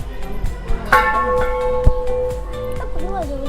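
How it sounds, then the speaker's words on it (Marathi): A temple bell rings out with a sharp metallic strike that hangs and rings on, among other clangs and chatter in the busy Siddhanath Jogeshwari temple at Mhaswad, Satara. "घंटा"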